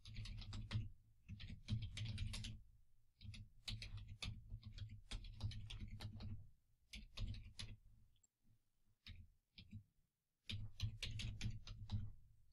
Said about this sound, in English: you type in your email address for your PayPal account